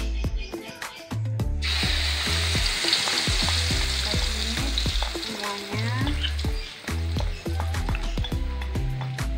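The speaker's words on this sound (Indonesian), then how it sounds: "Setelah bumbunya halus, kemudian bumbu kita tumis." Ground spice paste sautéing in hot oil for Indonesian buntil with cassava leaves, papaya leaves and anchovies: a loud, steady sizzle runs throughout, with repeated clinks and scrapes of a spatula stirring the pan.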